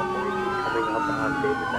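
Police car sirens wail near and loud, several overlapping tones sweeping up and down together at a shooting scene with damaged cruisers.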